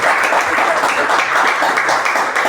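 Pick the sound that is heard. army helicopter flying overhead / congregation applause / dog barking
congregation applause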